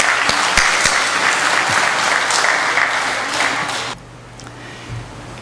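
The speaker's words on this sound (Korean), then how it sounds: "우리 한번 어른들이 크게 박수로 맞아주시고 우리 환영해 주시면 감사하겠습니다." Korean church congregation in New Jersey applauding to welcome a youth group at Sunday worship, loud dense clapping that stops abruptly after about four seconds, leaving a quiet room.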